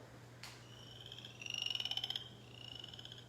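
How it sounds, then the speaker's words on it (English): Chorus frogs call in a steady run of rapid rising trills, repeated a few times at a moderate distance over a low constant hum, with no voices. "the chorus frog"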